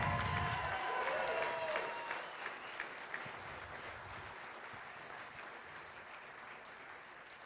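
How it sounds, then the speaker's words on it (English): An audience at a Texas state auctioneer contest finals applauds in a dense, steady round of clapping that gradually fades and thins out. "Give him a round of applause."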